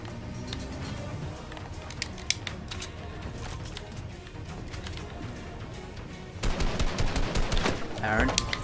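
Gunfire rattles in Fortnite, rapid bursts of shots running steadily under game noise, growing louder and denser toward the end.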